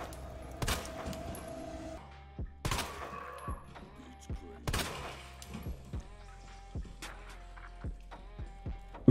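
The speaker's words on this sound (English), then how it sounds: "Couple warning shots." Warning gunshots in Resident Evil 2: a few loud, sharp shots spaced about two seconds apart, followed by scattered lighter impacts and thuds, with faint voices in the background.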